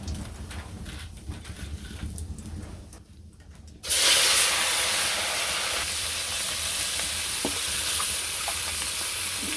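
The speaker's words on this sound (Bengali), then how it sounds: "তো রাঁধুনি আর জিরে দিয়ে দিলাম" Radhuni and cumin seeds hit hot oil in a village kitchen wok, bursting into a loud, steady sizzle that jumps up abruptly and holds strong, following a quieter stretch of low background noise.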